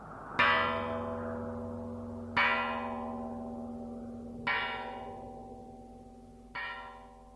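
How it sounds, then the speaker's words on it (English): A large stone bell is struck four times with a bronze mallet at slow, even intervals, each deep ringing strike left to hum and decay before the next. "At the elder's nod, Spock took up the bronze mallet by the bell's side and struck."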